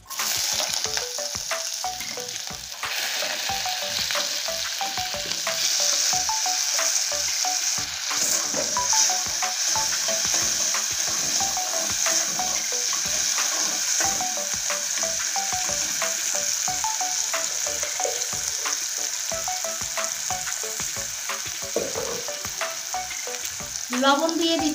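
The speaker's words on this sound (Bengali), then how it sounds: "লাল করে ভেজে নেব।" Chopped onion, capsicum and tomato fry together in a pan of hot oil, producing a loud, continuous sizzle with scraping stirring strokes throughout, close up and with no voices.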